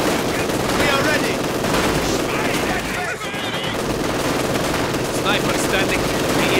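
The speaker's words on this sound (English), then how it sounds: "We are taking fire! Enemy HMG!" Heavy machine gun fire in the World War II strategy game Company of Heroes 2, a dense, continuous rattle of automatic bursts with other battle noise, and soldiers' voices calling out over it.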